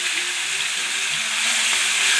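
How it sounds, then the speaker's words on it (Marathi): Beetroot, carrot, tomato, garlic and ginger paste with turmeric fries in hot oil, giving a steady, fairly close bright sizzle and hiss that runs evenly throughout with no voices. "चांगलं फ्राय करून घ्यायचं"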